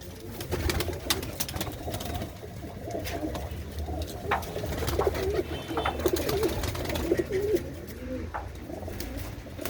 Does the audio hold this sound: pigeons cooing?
yes